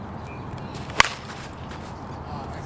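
An Anarchy Klutch Zebra USSSA softball bat strikes a ball once at a softball game, giving a single sharp, bright crack over faint outdoor ambience.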